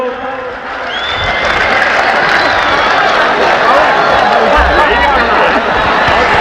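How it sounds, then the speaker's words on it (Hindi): Loud, dense applause from an audience at a mushaira poetry recital, sustained clapping with some cheering and crowd chatter mixed in, filling the hall from close by. "ताली बजाओ।"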